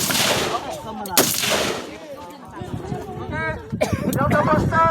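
Gunfire from barangay tanod firearms training on a range, with a couple of sharp broadband shots standing out near the start and end while several people talk and call out across the clip.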